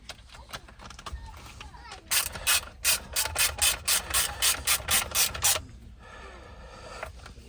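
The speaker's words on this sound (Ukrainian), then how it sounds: "беремо гвинти і вкручуємо" Screws driven into a Jeep Patriot steering wheel with a ratchet, producing a steady series of about fourteen crisp, evenly paced clicks, framed by quieter handling noise before and after.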